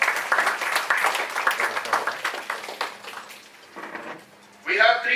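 Lecture audience on democracy and decentralisation applauds to welcome a professor to the dais, a dense burst of clapping that fades after a few seconds before a voice speaks over a quieter room.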